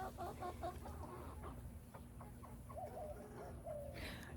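Chickens in a backyard coop, including a hungry rooster, cluck and chatter softly in short repeated calls, quiet and fairly close, with a brief higher call near the end.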